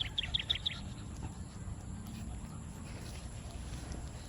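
Birds call outdoors, a quick series of four or five bright high chirps up close at the start, then a quieter ambient background of faint distant sounds.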